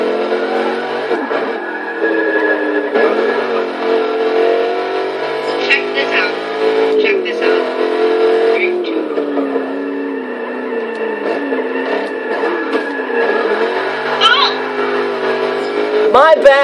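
Chevrolet Camaro, Z28 or SS, sliding sideways on the handbrake in Forza Motorsport 6, its engine drone and tire noise running steadily throughout beneath near-constant talking.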